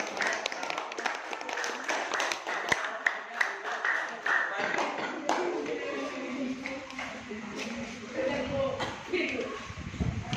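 Eighth-grade students clap together in a junior high school classroom in Jatibarang, Brebes: a scatter of sharp hand claps that patters on and off under ongoing talk throughout.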